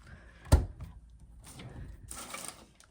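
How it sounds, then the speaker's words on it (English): A refrigerator door in a Star Princess cruise cabin swings open with a single sharp thud, followed by soft rustling and faint handling noises. "check out the refrigerator. Check out this feature. Pow, it just opens up."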